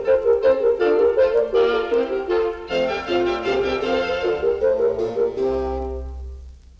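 Bach's Brandenburg Concerto with horns, oboes and solo strings playing together in a bright baroque ensemble passage, busy interweaving lines at a steady pulse, ending on a sustained chord that fades with a low rumble.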